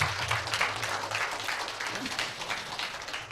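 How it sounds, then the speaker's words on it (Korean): A lecture audience at a philosophy forum breaks into applause, a broad even patter of many hands clapping that holds steadily throughout at moderate distance. "여러분 큰 격려의 박수 한번 부탁을 드립니다."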